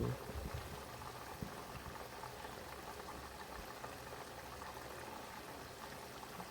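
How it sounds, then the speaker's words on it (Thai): Oil bubbles and sizzles in a constant, low crackling hiss as chicken wings fry in two pans, steady throughout with faint background noise. "นี่กำลังทอดเลย ทอดจักสองกระทะ"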